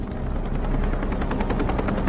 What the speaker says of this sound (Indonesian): helikopter yang barusan pergi terlihat kembali lagi untuk menyelamatkan mereka